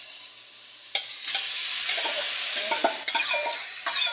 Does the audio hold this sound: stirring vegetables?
yes